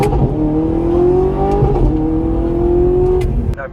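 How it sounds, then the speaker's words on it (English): A not fully warmed-up Audi R8 V8 supercar accelerates under partial throttle, its engine note climbing steadily in a loud, close, continuous rev with a brief shift midway. "Car's not completely warmed up yet, so can't give it all the throttle, but we'll give it a little bit."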